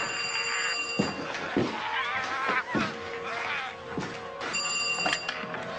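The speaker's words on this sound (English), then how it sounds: "That phone." A telephone rings in a 1993 drama film, its bright electronic trill sounding at the start and again near the end, with people talking in between.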